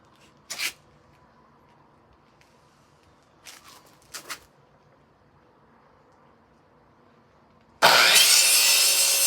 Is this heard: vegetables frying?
no